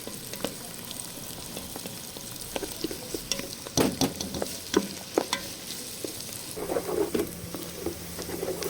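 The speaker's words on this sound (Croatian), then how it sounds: "Na zagrijano maslinovo ulje bacamo sitno narezani luk, kapulu." Finely chopped onion fries in hot olive oil with a soft, continuous sizzle broken by scattered crackles and pops and a run of scraping, tapping stirs in the middle and near the end; no one speaks.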